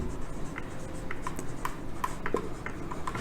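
Marker or chalk writing notes on a classroom board during a biology lesson, scattered soft scratchy strokes and taps over steady background hiss, close and fairly faint.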